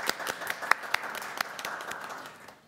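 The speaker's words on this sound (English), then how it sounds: "So I think a round of applause is in order." Scattered clapping from a small group in a committee meeting room, a few sharp claps standing out before the sound thins and fades out.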